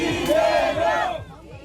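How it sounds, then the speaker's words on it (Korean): Supporters outside a detention center cheer in unison as Lee Jae-myung walks out, a loud, close crowd roar with raised chanting voices that drops off abruptly near the end. "구치소를 빠져나오는 이재명 대표를 향해 지지자들이 일제히 환호합니다"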